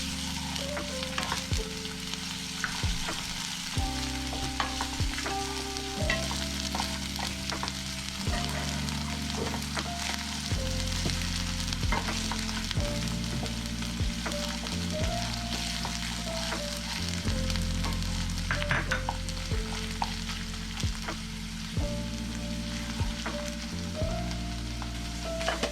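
Sliced onion, chopped green chillies and ginger-garlic paste fry for a veg pulav, stirred continuously, with a steady close sizzle and occasional stirring scrapes over background music.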